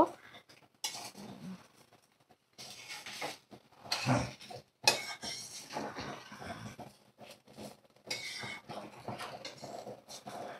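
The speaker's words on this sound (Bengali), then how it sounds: "তো আমি এবার ভালো করে একটু মিশিয়ে নেব।" Egg biryani being mixed in a pot, with a spoon scraping and clinking against the metal in irregular bursts and shuffling of rice between them, close up and fairly quiet, no talking.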